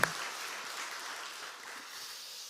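A church congregation at an early-morning Wednesday prayer service applauds in a soft, even, distant wash of clapping that holds steady and then cuts off, with no talk over it.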